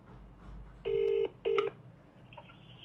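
A phone is being dialed to place a call: two clear keypad tones beep in quick succession, fairly quiet against a faint background hiss.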